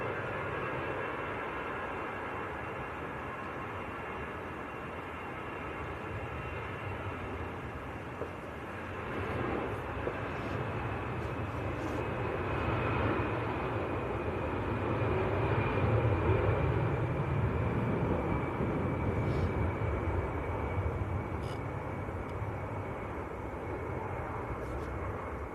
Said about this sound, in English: This EasyJet's going out to Nice, down in the south of France. Another A320.